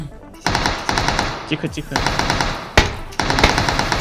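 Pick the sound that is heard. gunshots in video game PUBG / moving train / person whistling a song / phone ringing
gunshots in video game PUBG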